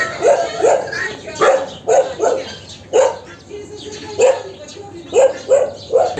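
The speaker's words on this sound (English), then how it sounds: "Even husky dogs." Husky dogs in a zoo in Isfahan barking repeatedly, loud and close, in irregular bursts of sharp barks and yips with short pauses between them.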